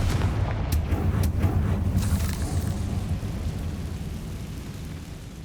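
A blasting-spell explosion in the Hogwarts Legacy video game sets off a deep rumbling boom with a few crackling bursts early on, then a low roar that slowly fades, with no talking over it.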